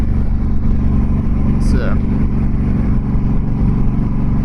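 Harley-Davidson Dyna Fat Bob 103 motorcycle pulling hard under acceleration, a loud continuous engine rumble heard from the rider's position, with someone talking over it.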